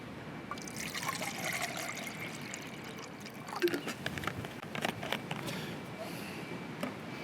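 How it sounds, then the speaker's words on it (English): Water trickles and pours into a camping stove pot, a quiet continuous liquid stream with small splashes and a brief clink near the middle. "Let's get some water in here."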